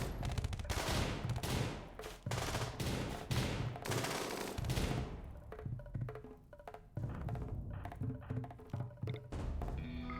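Dense bursts of rapid gunfire in a video game, clustered volleys of sharp shots for the first few seconds, then sparser scattered rounds and renewed volleys, loud and without talk.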